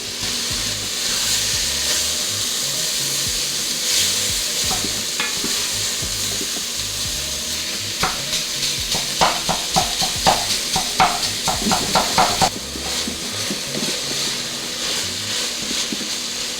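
Sausage for Tuscan white bean soup fries in a pot with a steady, close sizzle. Intermittent scraping and stirring clicks grow busier toward the end, with no talking.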